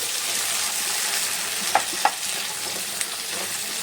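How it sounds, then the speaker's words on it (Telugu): Ingredients sizzle steadily in a tablespoon of hot oil while being fried for a kabuli chana masala curry, a close, even hiss broken by a few sharp clinks and scrapes of stirring; no one speaks. "ఇటువైపు ఒక టేబుల్ స్పూన్ ఆయిల్ వేసుకొని ఇవన్నీ కొంచెం ఫ్రై చేసుకోవాలి"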